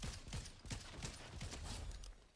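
Rapid bursts of gunfire from a Fortnite match, a steady run of close, loud shots repeating through the whole stretch with no pause.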